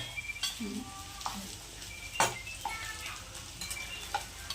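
Sabudana khichdi with crushed peanuts being stirred in a frying pan, soft sizzling under scattered scrapes and clinks of a spoon against the pan, fairly quiet and close.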